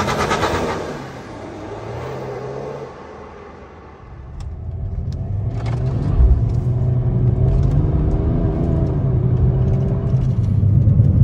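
A remapped BMW E92 330d drives along, its engine rumbling steadily and building in intensity, heard from inside the car with no talking.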